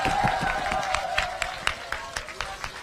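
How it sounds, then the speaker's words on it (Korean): Crowd at a political rally clapping, a modest, fairly distant round of applause made of scattered individual claps that thin out toward the end. "그래서 특별히 큰 박수로 좀 말씀을 듣도록 하겠습니다"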